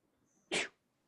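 A single sharp sneeze, close and sudden, with a brief intake just before it and a quiet room around it.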